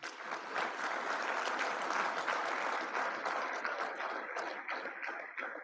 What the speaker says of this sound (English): Please join me in a round of applause again for all of our awardees.